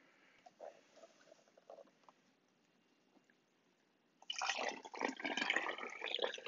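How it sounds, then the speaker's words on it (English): Hard cider made from store-bought apple juice poured into a hydrometer tube, a brief faint trickle early on followed by a louder, steady splashing pour filling the tube in the final seconds. "I'm going to pour it in this tube here."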